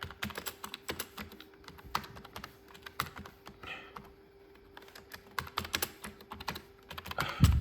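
Keys tap slowly and irregularly on a Twentieth Anniversary Macintosh keyboard from the late 1990s, close up, in sparse clicks with short gaps and a louder thud at the very end.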